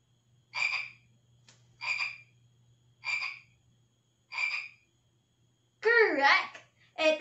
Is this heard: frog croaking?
yes